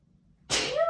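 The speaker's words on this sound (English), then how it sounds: "I feel like I'm gonna sneeze" A single sharp sneeze bursts out after a moment of near silence, loud and close, trailing into a brief breathy tail.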